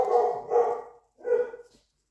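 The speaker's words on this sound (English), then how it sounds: "please excuse my dogs." Dogs barking indoors, two close, sharp barks in quick succession followed by a third after a brief pause, loud and clear with nothing else around them.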